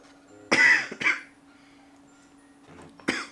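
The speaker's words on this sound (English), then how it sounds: "sorry if I cough a lot" Two quick coughs close together, then a pause and a third cough, each short and raspy, with a low steady hum underneath and no talking.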